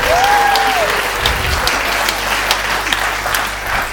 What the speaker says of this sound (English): Big round of applause over there.